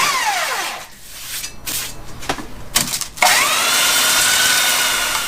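A power tool fitted with 24-grit sandpaper grinds mill scale off steel: its whine winds down, a few sharp scrapes and knocks follow, then it spins back up to a steady, loud, gritty hiss.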